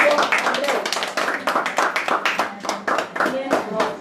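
Congregation in a church service claps in a quick, fairly regular rhythm, loud and close, with voices talking and calling out over the clapping throughout.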